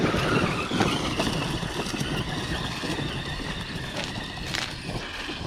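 An Arrma Outcast 1/8 RC truck with a 530kv motor runs flat out down an outdoor straight, producing a continuous, busy roar of motor and tires that stays fairly steady throughout.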